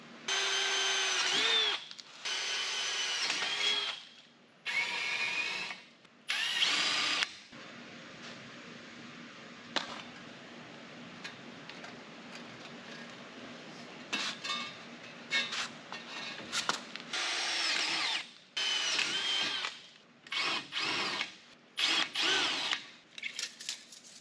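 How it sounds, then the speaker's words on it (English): Several bursts of a high-pitched power drill whine and grind through a steel roll cage main hoop tube for a Chevelle, stopping and restarting with short pauses and quieter gaps between. "drill some gas expansion holes in the main hoop here"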